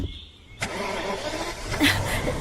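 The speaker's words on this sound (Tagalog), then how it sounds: "Teka, umaandar na siya, Troy." A car engine cranks and catches after quiet, then settles into a steady run with a slight rev near the end; faint voices are in the background.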